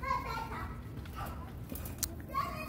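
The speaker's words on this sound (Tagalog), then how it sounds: "Ang ingay-ingay ng mga bata." Children play and shout noisily nearby in a home garden in Saudi Arabia, a steady mix of high voices and squeals with a few footsteps, continuous from start to finish.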